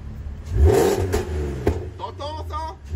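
Audi TT 3.2 VR6 Stage 1 engine revving, its deep exhaust note swelling and settling in a few close, loud pulls, with voices talking over it near the end.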